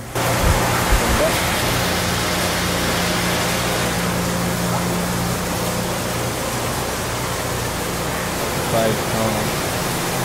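A small Shin Nong rice milling machine runs steadily, producing a dense, constant whooshing roar that stays loud and even from start to finish.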